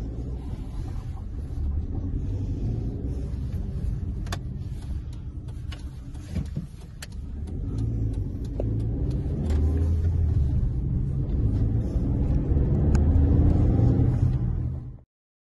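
A 2011 Chevrolet Spark 1.2 LS five-door hatchback on a test drive: a steady, close engine and road rumble inside the cabin that swells slightly with acceleration and then cuts off abruptly.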